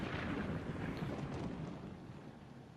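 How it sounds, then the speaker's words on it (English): A thunderstorm sound effect inside a VR rollercoaster experience, a dense, rolling rumble of thunder and rain-like wash that fades gradually over a few seconds, with no voices. "you've got this sound effect of a thunderstorm"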